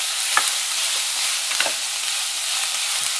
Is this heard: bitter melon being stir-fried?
yes